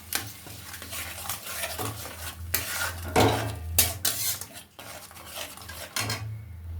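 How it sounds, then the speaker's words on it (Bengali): Spices with tomato, cinnamon, cloves, cardamom and bay leaf fry in oil in a pan while a metal spoon stirs and scrapes repeatedly, clattering against the pan over a steady soft sizzle, close up with no talking. "ভালো করে মশলাটা এবার ভেজে নেবো।"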